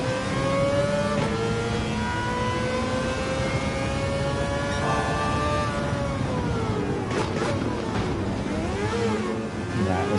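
Mazda 787B race car with a detuned engine and 5-speed transmission in Gran Turismo 7, screaming at high revs through about ten seconds of continuous racing, pitch climbing and dipping with gear changes, loud and alone.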